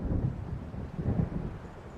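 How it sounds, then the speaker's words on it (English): Low, rolling thunder of an approaching storm in the video game Alan Wake rumbles in two heavy swells, with steady wind and rain hiss beneath and no voices. "It seems there's a storm coming."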